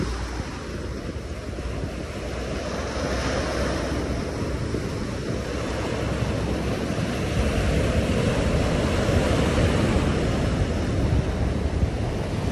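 Waves washing onto the Manila Bay shore at Dolomite Beach at low tide, a steady broad surf roar with gusting wind buffeting the microphone throughout, loud and continuous with no voices.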